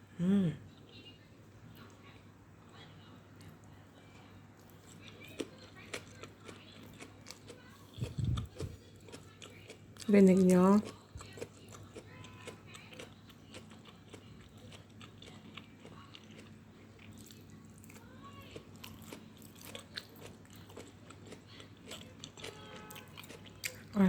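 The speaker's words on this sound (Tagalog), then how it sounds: "Crunchy siya guys. Pakinggan nyo. Crunchy yung ampalaya." Crunchy bitter gourd (ampalaya) chewed during a Filipino food mukbang, giving a few brief close crisp bites amid quiet mouth sounds, with a short spoken question.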